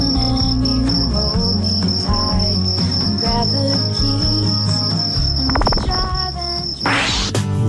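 Crickets chirp without a break, a steady high trill that stays loud and close throughout, with background music underneath.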